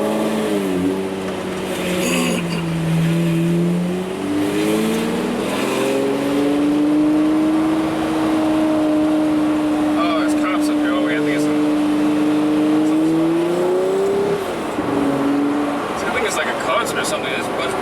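Lamborghini Murcielago V12 engine droning while driving on a road, a loud sustained tone that rises and falls with revs, steadying into a long even cruise before easing off, with talking over it.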